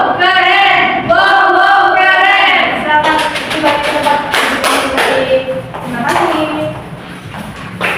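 A classroom of students performs a rhythmic clapping chant together, their voices loud and close, with sung chanting over quick claps that build into a burst of group claps and shouts.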